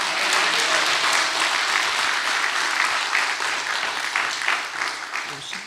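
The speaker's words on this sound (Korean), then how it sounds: "하나님께 감사와 영광의 박수 올려드리면 좋겠습니다" A church congregation bursts into warm, continuous applause during a lecture gathering, a dense wash of clapping that holds steady and slowly thins toward the close.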